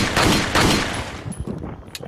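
Handgun shots in the video game Resident Evil 4, a quick loud volley of firing at the start that gives way to fainter scattered clicks and impacts.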